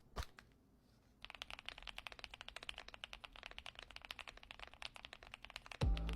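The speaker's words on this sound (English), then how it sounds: "Yes, this is the Leobog Hi75, one of the creamiest sounding pre-built keyboards I have ever come across." Fast, steady typing on a Leobog Hi75 75% mechanical keyboard with an aluminum gasket-mount case and creamy switches, giving dense soft clacks close up after a brief quiet start, ending with a louder thump.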